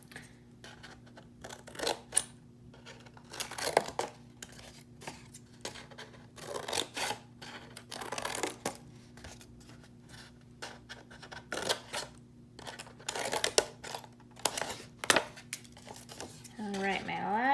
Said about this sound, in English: we are just gonna cut out all those triangles